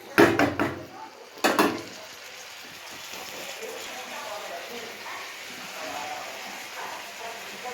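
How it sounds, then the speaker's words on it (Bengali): A lid clatters onto a pan of mixed vegetables cooking on a gas flame: two quick metallic clinks up close, followed by a steady soft simmering hiss. "এবার একটু চাপা দিয়ে দেবো"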